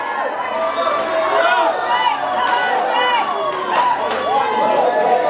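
A crowd of spectators cheers and shouts at a logging sports competition while axemen chop, a lively, continuous roar of voices with whoops rising and falling.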